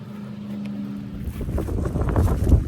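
A PetraTools HD4000 battery-powered sprayer starts up, a low hum giving way after a moment to a rougher, steady motor and pump whir that grows slightly louder, heard close with no talking.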